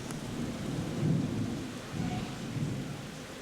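Heavy rain pours steadily during a severe thunderstorm, with low rolling thunder swelling and fading underneath across the few seconds, no voices.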